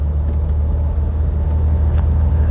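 A classic car's engine runs steadily nearby at a smooth, loud, even drone with no clear rise or fall in revs.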